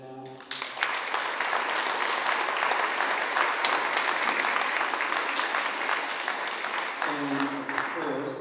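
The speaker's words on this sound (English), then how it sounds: "So a huge round of applause for our teachers coming out." A school audience gives a sustained round of clapping for the teachers at a spring event, dense and steady for several seconds, with a few voices briefly audible at the start and end.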